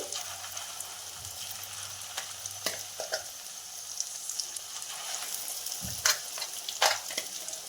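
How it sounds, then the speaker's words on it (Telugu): Tomato pickle tipped into a hot tempering sizzles and crackles steadily, with a spoon scraping and stirring through it and a few sharper clinks near the end; no one speaks. "ఇప్పుడు ఇందులోకి మనం ముందుగా మిక్స్ చేసి పెట్టుకున్న టమాటా పచ్చడిని వేసుకోవాలి"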